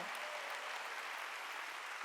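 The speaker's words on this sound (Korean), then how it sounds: "깨달은 사람은 박수라." Congregation clapping during a Wednesday church service, a steady, dense patter of many hands held evenly throughout, moderately distant.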